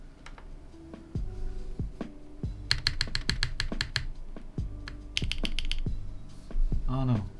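Keys clacking in quick bursts on a keyboard fitted with an added weight, close and fairly loud, with a tonal hum and faint background murmur underneath.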